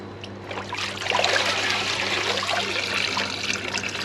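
Muddy water draining steadily from a koi pond filter part during a spring clean, a continuous close trickling and splashing with a low steady hum underneath.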